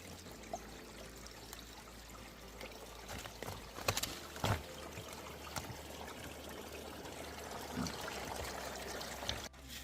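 Natural spring water running out of rocks in the hillside below a waterfall, a steady low trickling flow heard close and alone, with a few brief knocks and scuffs over it.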